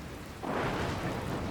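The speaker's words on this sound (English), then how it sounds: "Looks like there's another storm rolling in." Rain and a thunderstorm in the video game Dragon Quest Builders 2: after a quiet start, a loud, steady broadband roar of rain and rumbling thunder rises and holds to the end, with no talk.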